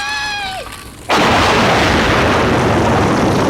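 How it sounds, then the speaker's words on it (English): A large oil refinery explosion from the 1990 film The Cellar erupts as a sudden, loud, sustained roaring blast after a brief falling whistle-like tone, filling the rest of the moment with dense rumbling noise. "the pyrotechnics in a few scenes are quite impressive, one in particular being the oil refinery explosion"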